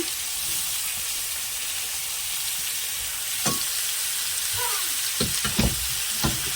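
Potato, carrot, onion and capsicum frying in hot oil for chowmein give a steady broadband sizzle throughout, with a few louder crackles and scrapes of stirring toward the end.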